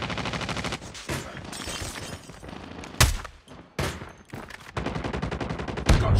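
Rapid gunfire from the Call of Duty Mobile video game in multiplayer, with bursts of shots, a few sharp louder blasts and brief lulls between volleys.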